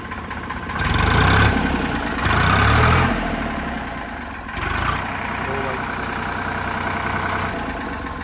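A Sonalika 35 tractor engine idles with a low, steady rumble, its throb surging in a few louder bursts before settling back to an even chug.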